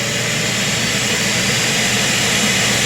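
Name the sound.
Roomba self-emptying base running its vacuum cycle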